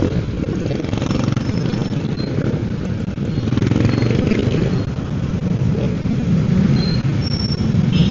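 Busy street traffic dominated by motorcycles, a dense continuous rumble of engines passing nearby with occasional faint horn-like tones, heard outdoors without talking.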